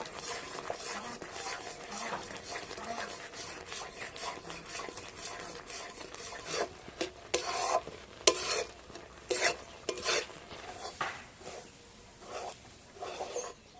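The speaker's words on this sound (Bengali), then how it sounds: "এবার সব কিছু এইভাবে মিশিয়ে নেব।" Chana dal sandesh mixture with a little ghee being stirred in a kadai, a steady scraping swish of spoon against metal with faint background sizzle, growing louder and more clattery in the second half.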